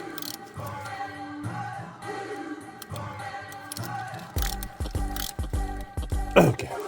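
A hand ratchet tightens a part on a 2011 GMC Terrain SLE, giving a close run of quick mechanical clicks that grow more insistent toward the end, over faint background hum and no talking.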